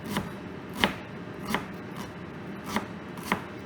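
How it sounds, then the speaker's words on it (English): A knife chops an onion into a fine brunoise for pico de gallo, with five evenly spaced crisp taps on the cutting board over a soft background rustle. "And then we'll just cut through. Thin as you can. You could call this brunoise cut, very small."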